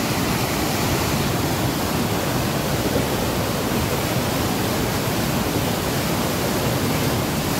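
Floodwater of the Khare river surges through Dharan bazaar after heavy rain, a loud, dense, unbroken roar of rushing water filling the whole stretch.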